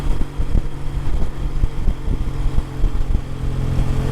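A motorcycle engine drones and pulls under acceleration while riding, with steady low rumble, wind buffeting and a few gear-change dips close to the microphone.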